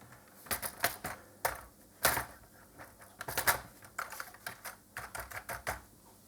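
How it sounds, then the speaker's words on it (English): Keyboard being pushed into place inside an Atari STE case, giving a quick irregular run of close, sharp plastic clicks and snaps with no one talking. "to hold it in place, and we can pop the keyboard in"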